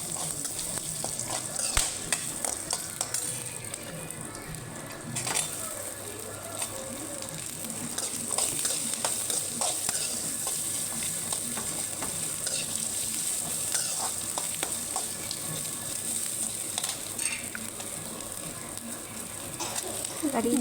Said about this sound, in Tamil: நம்ம நறுக்கி வச்சுருக்க இஞ்சி, பூண்டு, வெங்காயம் சேர்த்து நல்லா வதக்கிக்கலாம்.